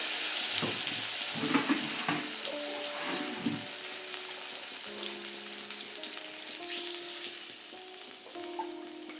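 Ground mustard paste and a little water hit a hot pan, giving a steady hiss and sizzle with light stirring clinks, fairly close, over faint background tones.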